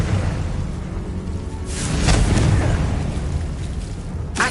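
A fire spell explosion from the game Hogwarts Legacy, a loud burst with a whooshing roar that swells and fades, then a sharp crack near the end over a constant game background.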